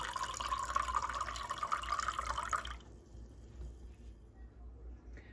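Kombucha runs from the spigot of a glass brewing container into a vessel as a steady close trickle that stops abruptly midway, leaving quiet room tone.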